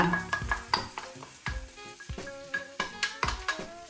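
Wild asparagus and seafood being stir-fried in a pan: quick clanks and scrapes of a utensil against metal in an irregular rhythm over a soft sizzle, close and fairly quiet, with no talking.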